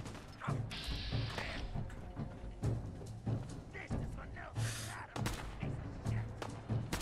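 Gangster firing at the player in Fallout 4, sporadic gunshots and mechanical clacks and creaks of weapons, with a voice talking over parts of it.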